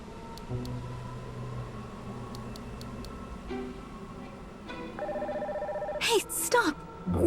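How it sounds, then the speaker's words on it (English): Phone ringing in the NieR Reincarnation video game, a repeating electronic ring tone that enters partway through and sits under game music and character voices. "So I decided to give your brother a ring."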